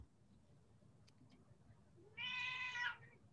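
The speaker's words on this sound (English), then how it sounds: "Is that your cat?" A house cat meows once, a bright, drawn-out cry lasting under a second, fairly close and clear against a quiet indoor room during an online call.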